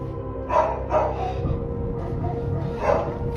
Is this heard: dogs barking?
yes